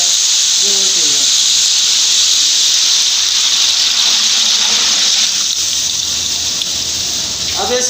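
Water pours steadily into a cooking pot for kadhi pakora, a loud continuous gushing hiss lasting several seconds, close by, with faint voice underneath.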